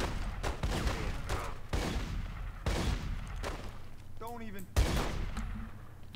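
Gunfire in The Godfather II: sharp broadband shots crack out every second or so across the clip, loud and close, with a brief gap near the end and a final heavy shot.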